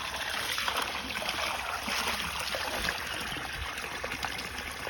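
Water trickles steadily out of a garden culvert feeding a chinampa bed, a close, continuous babbling stream with no voices.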